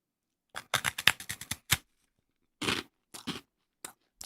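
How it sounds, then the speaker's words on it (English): A sweet-savory Japanese sakura rice cracker being bitten and chewed up close: a quick burst of sharp, dry crunches, then a pause and a few scattered crunches, with no talking. "That's a 9 out of 10 crunch right there."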